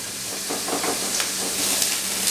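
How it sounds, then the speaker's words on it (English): Onions frying in a pan for spaghetti bolognese sauce, a continuous bright sizzle and hiss with faint stirring scrapes, close and steady with no talk. "Our onions are getting a little bit golden brown."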